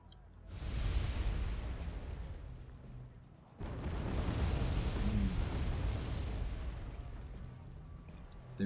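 Two heavy, booming artillery shell explosions in the war strategy game Wargame Red Dragon, each a sudden blast followed by a long, rolling rumble that fades slowly, with nobody talking.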